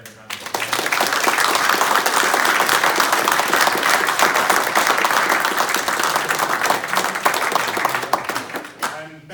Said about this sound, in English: we need to give Ben a round of applause